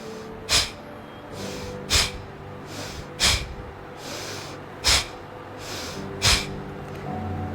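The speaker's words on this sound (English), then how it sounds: "breathing out, pulling the tummy in and throwing the air out with a jerk." Five sharp, forceful nasal exhalations at a steady rhythm, each a quick burst of air as the stomach is pulled in during a seated breathing exercise with hands on the knees, close and clear over a quiet room.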